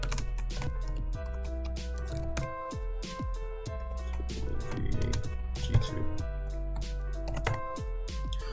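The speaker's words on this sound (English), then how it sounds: "what is good with my typing today?" Someone types on a computer keyboard while coding in Java. Quick, irregular clatters of keys run steadily up close, with a few heavier taps, under a low constant hum.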